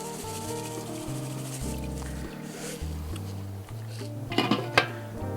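A metal pot and lid of salted water, heading for a boil for whole cauliflower, clink and clatter near the end over a steady low tonal background.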